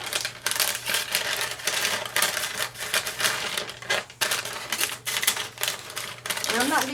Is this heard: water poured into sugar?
no